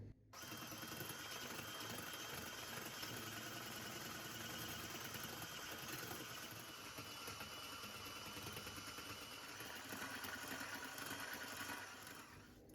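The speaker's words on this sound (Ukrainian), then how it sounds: "Вершки краще збивати не на високих обертах, а на низьких" Hand mixer whipping cream at low speed, a steady mechanical whir that runs almost unbroken for the whole stretch and cuts off near the end.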